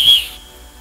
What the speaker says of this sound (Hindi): इस बात के लिए तो मैं सीटी बजाना चाहूंगा भाई